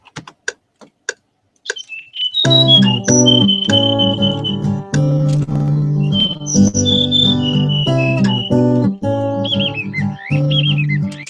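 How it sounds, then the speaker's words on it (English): A few sharp clicks, then bright bird chirps and whistled tweets ring out over a sustained musical chord, fairly loud and close. "I fade out the sounds of the birds"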